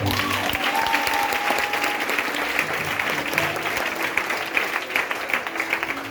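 A church congregation claps together in steady, dense applause filling a worship hall, sustained at an even level throughout.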